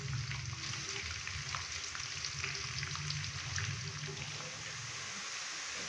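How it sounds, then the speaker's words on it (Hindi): Finely chopped onions sizzle steadily in hot oil as they fry toward light brown for a mash dal keema, a continuous, even crackle without pause. "प्याज को लाइट ब्राउन होने तक फ्राई करेंगे।"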